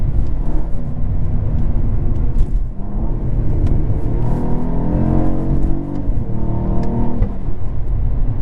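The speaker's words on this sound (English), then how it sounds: "Oh my god, that burble on the upshift." A 2022 Cadillac CT4-V Blackwing engine revs and rumbles up through the gears, with a throaty exhaust burble as it shifts, steady and loud throughout.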